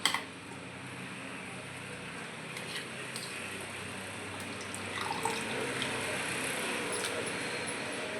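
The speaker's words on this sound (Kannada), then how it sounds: "ಈ ಥರ ಬಂದಿರತಕ್ಕಂಥ ಬೆಣ್ಣೆಗೆ ನೀರನ್ನು ಹಾಕಿಕೊಂಡು ಚೆನ್ನಾಗಿ ತೊಳಿಬೇಕು" Homemade butter is rinsed in water, giving a quiet, steady running-water wash with faint splashes and trickles, growing slightly louder toward the end.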